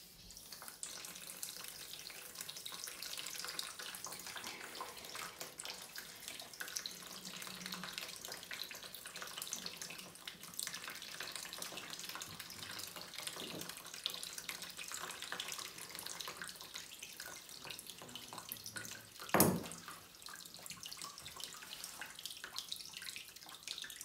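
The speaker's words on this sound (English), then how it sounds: "I'm going to drain most of this out on this radiator." Water draining steadily out of a central heating radiator, a faint continuous hiss and trickle with one brief louder splash near the end, no talk.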